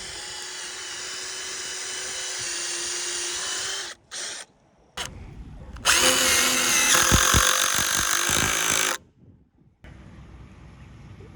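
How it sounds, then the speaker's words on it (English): A power drill bores countersinks about half an inch deep into wooden beams for 8-inch heavy-duty screws, loud and close, with a long steady whine, a brief pause, then a second sustained run before stopping. "what we're gonna do is countersink this about 1/2 inch."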